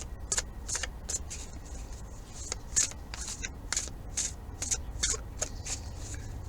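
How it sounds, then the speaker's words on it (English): A Xultun Tarot deck is shuffled in repeated quick riffles, crisp rapid flutters close by, each burst separated by short pauses with no talking. "I'm going to shuffle this way like I normally do with my decks anyway"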